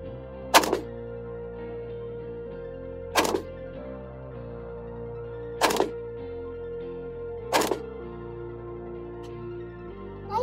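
Four evenly spaced gunshots from a Galil rifle in .308 at an outdoor shooting range, each a sharp crack over a steady low hum, with no voices between them.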